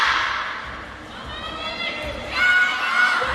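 A crowd at a WTT Singapore Smash women's singles table tennis final sings and cheers in the arena, a broad, sustained roar of many voices swelling and ebbing, with a commentator speaking over it.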